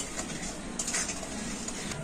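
Sugar syrup being stirred in a pan for badam chaak, a steady close scrape and swish of the spoon against the metal with a faint simmering hiss beneath, no voices.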